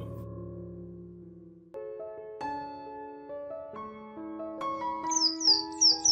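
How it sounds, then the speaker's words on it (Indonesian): Soft melodic music plays, and a few bright, high morning bird chirps come in near the end, layered over the tune. "diiringi suara kicauan burung bernyanyi, riang kesana kemari"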